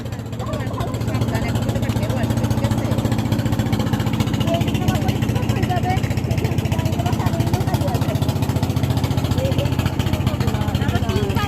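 A trawler boat engine chugs steadily and loudly in a fast, even throb on the water, running without pause while several people talk over it.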